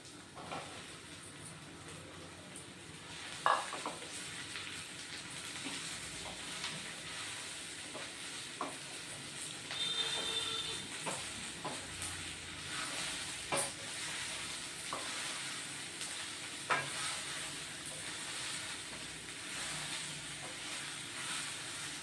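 Onions fry and sizzle in a pan while cooking a tangy okra and lemon stew, a steady crackling hiss running throughout with occasional scrapes and clinks of a stirring spoon, no voices.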